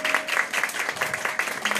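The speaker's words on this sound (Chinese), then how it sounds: "我们给他热情的掌声" Audience at a watch brand press conference gives steady, warm applause, a dense patter of many hands clapping continuously at moderate volume throughout.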